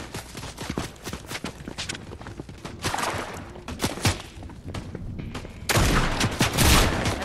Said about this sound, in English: Are they shooting at other people or you?